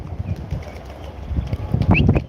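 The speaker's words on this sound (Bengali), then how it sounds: "ওই যে আমার দুইটা কবুতর" Pigeons at a pigeon loft flap their wings in short, close bursts, the flutter growing busier and louder toward the end amid faint outdoor background noise.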